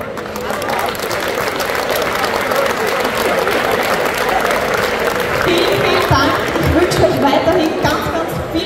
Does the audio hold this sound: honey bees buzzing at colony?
no